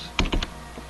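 A few computer keyboard arrow keys pressed in a quick burst of about three clicks, close and fairly loud, followed by a faint single tap, with no talking.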